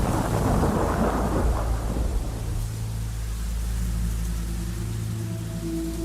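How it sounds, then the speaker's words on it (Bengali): Thunder rumbles loudly through a heavy rainstorm at night around a remote bungalow, a deep roar that fades over the first seconds into steady rain with a low sustained hum beneath. "ঝড় এখনো গর্জন করছে।"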